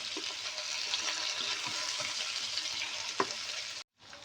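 Chicken and tomatoes sizzling and frying in a pan while being stirred, a steady crackle with occasional scrapes, ending in a brief dropout near the end; no talking.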